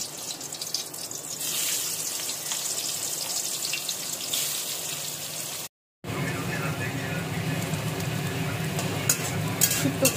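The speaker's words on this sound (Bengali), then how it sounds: "শুক্তোগুলোকে উস্তগুলোকে ভালো মতো ভেজে নিচ্ছি" Salted, turmeric-coated bitter gourd (uchhe) frying in hot oil, a steady close hiss and sizzle that continues after a brief cut, with a voice speaking faintly over it.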